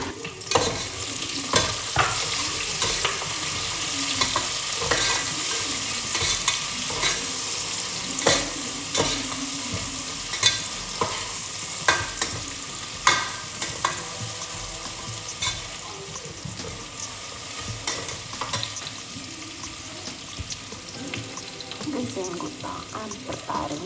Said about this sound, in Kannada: ಈರುಳ್ಳಿ ಸ್ವಲ್ಪ ತುಂಬ ಗೋಲ್ಡನ್ ಬ್ರೌನ್ ಅಲ್ಲ, ಸ್ವಲ್ಪ ಅಷ್ಟೇ, ಅಲ್ಲಾಗೋ ತನಕ ಫ್ರೈ ಮಾಡ್ಕೊಳ್ಳಿ